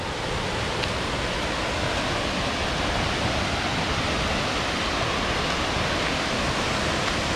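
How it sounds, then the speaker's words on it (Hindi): Ramboda Falls, a waterfall in Ramboda Pass, Sri Lanka, gives off a dense, unbroken roar of rushing water that stays steady and loud throughout. "ये है वाटरफॉल।"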